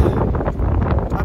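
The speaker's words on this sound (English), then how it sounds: "Sorry it's windy, but it's stormy." Steady, loud wind buffeting the microphone during a thunderstorm in canyon country, a continuous low rumbling roar with gusty swells and no speech.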